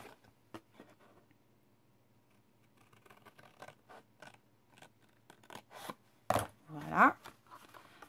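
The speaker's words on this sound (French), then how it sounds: "Donc, cette fois, je coupe vers le haut." Cardboard box flaps being cut along a fold with a blade or scissors in a quiet room: faint scattered snips and clicks, then a louder crunching cut through the board near the end.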